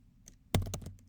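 A short burst of computer keyboard typing: a few faint clicks, then a louder cluster of keystrokes over about half a second, with no speech.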